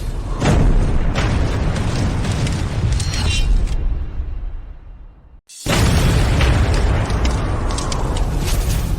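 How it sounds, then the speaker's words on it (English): A loud bomb explosion sound effect erupts as a sustained, heavy rumbling roar that drops away briefly to near silence, then a second blast bursts in and rolls on just as powerfully. "Bomb it, blow him to pieces!"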